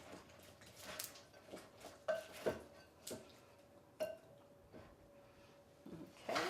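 A utensil stirs peanuts into a microwaved holiday treat mixture, giving soft scraping and occasional clinks against the bowl in a quiet kitchen, with no talking.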